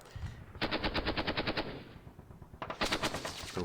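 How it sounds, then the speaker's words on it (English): Rapid machine-gun bursts and gunfire in the Panzer Campaigns Normandy 44 wargame, from artillery and small-arms combat: a steady string of loud, evenly spaced shots for about a second and a half, then a pause and a second close burst. "Okay, we're being hit by artillery."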